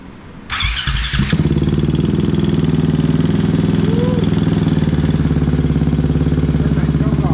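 A KTM engine fitted in a Honda TRX450R quad starts for the first time: brief cranking, then it catches and settles into a loud, close, steady rapid idle with a choke on.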